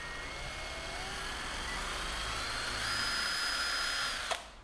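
A Ribimex 18V cordless impact driver spins up close by with a high, steady motor whine that rises as the trigger is pressed further, then cuts off sharply near the end.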